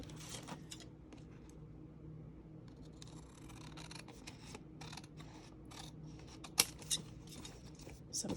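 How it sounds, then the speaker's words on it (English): Scissors trim the edge of craft paper in a quiet room, making a few soft, brief snips and rustles, with one sharper click near the end. "Okay, so let's use scissors on that."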